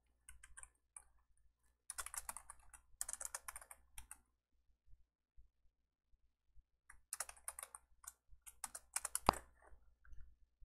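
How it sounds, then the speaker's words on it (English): Quiet bursts of keyboard typing, two clusters of rapid key clicks separated by a pause, with a low steady hum underneath. "so I was typing"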